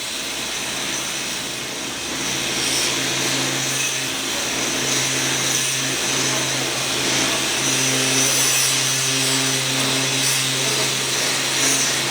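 Angle grinder working metal in a welding class, a steady loud whine with broadband hiss running continuously for the whole stretch, no talk over it.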